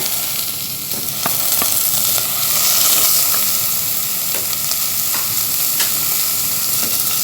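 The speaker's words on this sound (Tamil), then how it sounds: "தக்காளி சேர்த்து நல்லா வதக்கலாம்" Green chillies and tomatoes sauté in a hot pan with a loud, steady sizzle and hiss, broken by occasional scraping stirs of a spoon against the pan.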